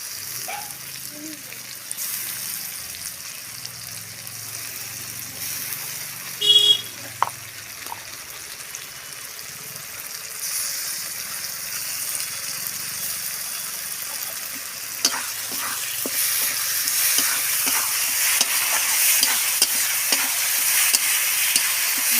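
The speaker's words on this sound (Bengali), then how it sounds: "মশলাটা আমি ভালো করে কষে নিই।" Spice paste for a jackfruit curry fries in a pan while being stirred, with a continuous sizzle and scraping stir strokes that grow louder and denser over time, plus a few brief clinks.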